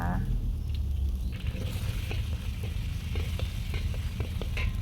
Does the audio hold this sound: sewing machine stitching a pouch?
no